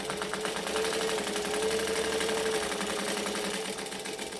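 A sewing machine back stitching while making a bag, its needle running in a fast steady mechanical chatter with a faint whine, close and continuous for several seconds.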